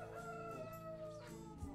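Chickens on a Brazilian farm raising balloon-type fowl cluck steadily close by, with a rooster crowing layered over the flock in a continuous, fairly quiet farmyard chorus.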